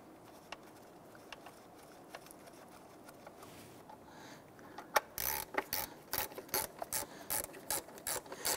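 Ratchet tightening valve cover bolts on a 1992-1996 Toyota Camry during a gasket replacement, heard as a run of close, sharp clicking bursts in the second half after quieter mechanical fiddling, with no talking.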